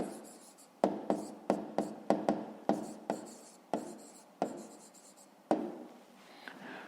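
Pen on paper writing down a maths answer: a quick series of close, distinct strokes and taps in an irregular rhythm, each followed by a short scratch, alone without speech.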